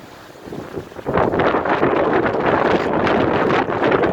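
Strong wind buffets the microphone on an outdoor walk in Nice, France, making a loud, continuous rumbling roar that swells after the first second and holds steady.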